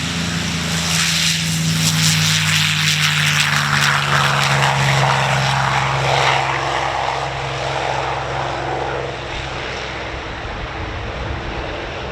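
A P-39 Airacobra fighter plane drones loudly with a steady engine and propeller roar that slowly fades as it moves away.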